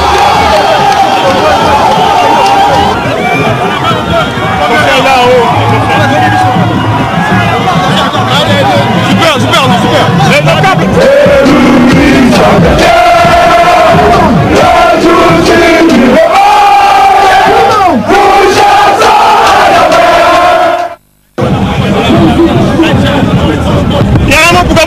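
A dense, loud crowd in Gabon shouts and cheers in welcome for the footballer Aubameyang, a continuous roar of voices and chants with people talking nearby, cut by a brief silence near the end.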